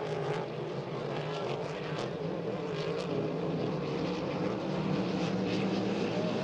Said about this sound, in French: Et Daoust en pleine accélération à l'entrée du virage numéro 2.